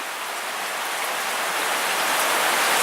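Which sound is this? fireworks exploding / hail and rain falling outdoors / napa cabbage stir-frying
hail and rain falling outdoors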